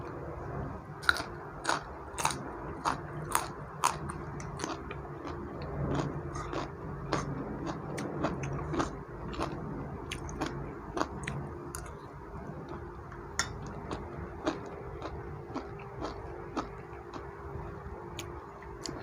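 Someone eats Thai chili paste made with canned fish alongside beans, with close, repeated crunchy bites and soft chewing clicks in an irregular rhythm over a quiet background, no talk.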